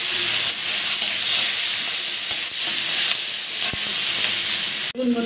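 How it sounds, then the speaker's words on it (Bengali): Minced garlic and chopped onion fry in a pan, a steady close sizzle and hiss with occasional sharp clicks of a utensil stirring against the pan and one louder clatter near the end. "এখন দিয়ে দেবো একটু পেঁয়াজ কুচিটা দিয়ে ভালো করে আমি নাড়াচাড়া করে নেব।"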